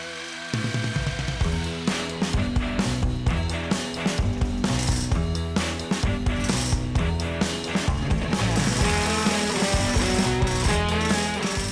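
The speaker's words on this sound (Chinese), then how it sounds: "这个东西叫 small breaker， 从 Home Depot 租来的" An electric small breaker rented from a hardware store chatters as it pries up glued engineered wood flooring, with rapid, continuous mechanical rattling and repeated clattering bursts that keep going steadily and loudly throughout.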